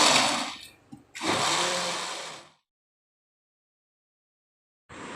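Spinach leaves are ground in a blender jar in two loud, close bursts of whirring motor noise. A short pause separates them, the machine stops, and a third burst starts near the end.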